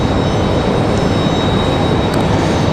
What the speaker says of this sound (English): Bit of a smoky touchdown there.